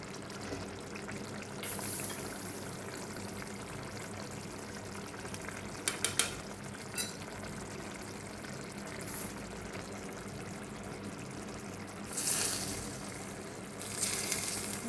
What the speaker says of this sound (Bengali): এখন আমি এখানে 1 চামচের মতো একটু ঘি দিয়ে দেবো